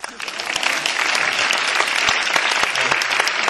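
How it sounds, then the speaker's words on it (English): Audience applause fills a Donnie Yen Q&A event in New York for the film Dragon, a dense, steady clapping from a large crowd that holds loud throughout, with some voices mixed in. "Big round of applause for my wife."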